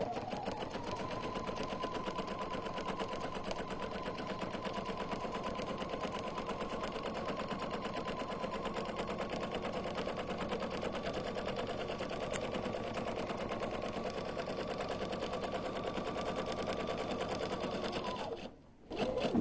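A sewing machine runs continuously, stitching a self-binding placemat, with a steady rapid needle rhythm close by that stops abruptly near the end before briefly restarting.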